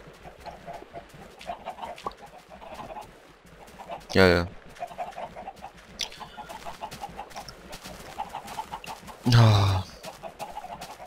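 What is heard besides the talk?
chickens clucking on a chicken farm in Minecraft video game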